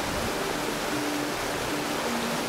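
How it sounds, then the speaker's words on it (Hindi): Someshwar waterfall near Nashik pours a strong, heavy flow, giving a steady broadband roar that holds evenly throughout without any talk. "ये वाटरफॉल बहुत ही बड़ा और जायंट वाटरफॉल है और थोड़ी थोड़ी छींटे यहाँ तक आ रहे हैं"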